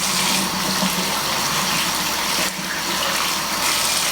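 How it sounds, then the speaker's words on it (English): Water runs steadily from a tap into a sink while hands are washed with soap, a loud, continuous splashing gush close by that never pauses. "let's wash our hands before we get started. You always want to get soap on your hands."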